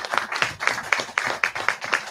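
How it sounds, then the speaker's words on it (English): An audience claps in applause, a steady rhythmic run of about nine sharp claps, fairly close, with no talk over it. "Give yourselves a round of applause for showing up."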